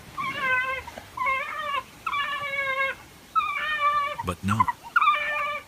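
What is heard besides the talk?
African wild dogs whimpering and howling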